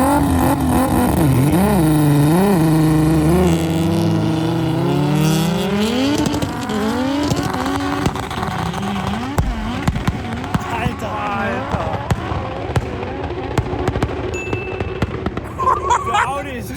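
A 1200 horsepower Audi S1 drag racing up a ski slope, its engine roaring and revving hard with rising and falling pitch, loud and close at first, then fading into crackling pops and distant crowd noise, with a commentator talking over it.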